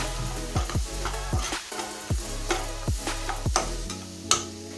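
Chili powder stirred into mango pickle: a spoon scrapes around a vessel in a regular rhythm, about once every half second, each stroke close and distinct against a faint sizzle.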